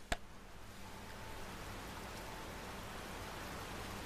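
Steady rain at night in Resident Evil 2, a faint, even hiss of falling water after a sharp click at the start, with no voices.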